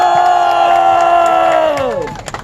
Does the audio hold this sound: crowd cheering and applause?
yes